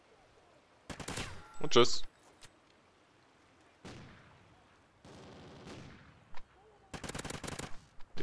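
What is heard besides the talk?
sniper rifle gunfire, from the video game Call of Duty Ghosts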